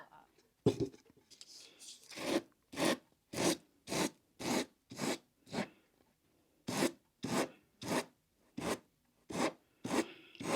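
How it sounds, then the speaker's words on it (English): Steady back-and-forth rasping strokes of sandpaper along the edge of a bamboo tissue box, about a dozen in a regular rhythm, close by with short pauses between passes. "You just want to make sure you're really strictly only sanding that very edge."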